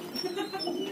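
Parrot imitating an old person's cough, delivered as a steady raspy, husky vocal sound close to the microphone with no clear gaps through the second.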